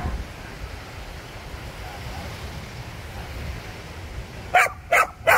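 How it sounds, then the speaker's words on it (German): A dog on a beach at Playa de Palma, Mallorca, lets out three sharp, loud barks in quick succession near the end, after a stretch of steady wind and surf noise. "Der ist aber heute schlecht gelaunt, der Hund."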